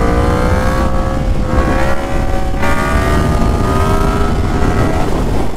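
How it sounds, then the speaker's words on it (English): A Yamaha FZ10 inline-four motorcycle engine holds a wheelie at high RPM, screaming loud and close with a smooth, steady howl that rises and falls slightly in pitch as the throttle is held. "the power is so smooth in the upper RPMs because of this inline 4 that it just makes it so easy to keep carrying that wheelie"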